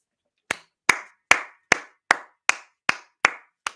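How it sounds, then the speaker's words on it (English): Nine sharp hand claps ring out one at a time at a steady, unhurried pace, each crisp and close with a short decay, and no talking between them. "We're already giving claps"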